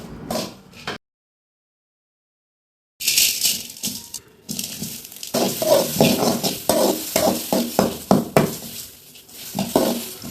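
Rice is dry-roasted in a pan, stirred with steady scraping and rattling of grains against metal, loud and close, with a brief silent gap early on.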